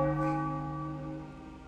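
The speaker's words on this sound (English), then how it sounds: "Church bells?" A church bell rings once in the video game Cardiophobia, its tone decaying slowly and fairly faint.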